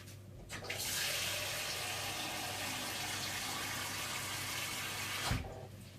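About 2.5 litres of water gushing into a large cooking pan for chicken pozole, a steady close pour that starts abruptly, holds for several seconds and then cuts off.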